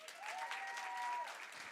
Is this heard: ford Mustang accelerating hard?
no